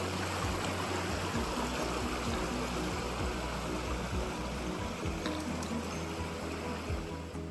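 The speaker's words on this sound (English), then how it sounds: "The creek is down over there to my right" A creek flows through a canyon in a steady, unbroken rush of water that stays even and fairly soft throughout, with no voices over it.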